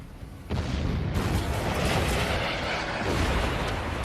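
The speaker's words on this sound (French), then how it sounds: "C'est un tir de barrage anti-aérien." A World War II naval anti-aircraft barrage roars from warship guns, including twin 127 mm turrets, as a loud, dense, continuous rumble of overlapping booms and blasts that starts abruptly and fills the whole stretch.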